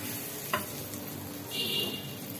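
A small amount of butter sizzles quietly in a pan, a low steady frying hiss with a single clack of a utensil and a brief brighter sizzle toward the end, with no talking.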